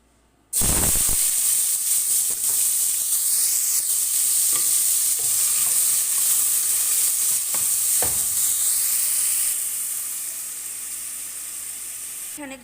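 Meat frying with a mix of seven ground spices in a pan gives a loud, continuous sizzle that starts abruptly and runs throughout, with periodic scrapes and knocks of stirring, easing slightly toward the end.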